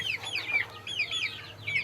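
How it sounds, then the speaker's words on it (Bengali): Brahma chickens, Silkie, Light and Columbian Brahma hens on a small farm, cluck in short repeated bursts, a few overlapping nearby calls with soft pauses between, and no talk. "সিল্ক ব্রাহ্মা, আছে লাইট ব্রাহ্মা এবং আছে কলম্বিয়ান ব্রাহ্মা। সবগুলো বিদেশি মুরগি।"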